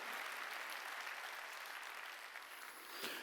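A congregation applauds continuously during a Sunday church service, with steady, dense clapping from start to finish that fades slightly near the end.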